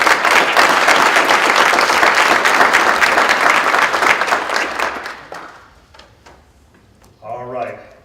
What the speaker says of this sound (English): if I can have a round of applause for Alan Krasnov and all this.